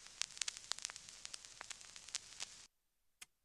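Film static sample playing on a Polyend Tracker: dense crackling noise with sharp clicks and pops for about two and a half seconds, then it cuts off, leaving near silence with one last faint pop.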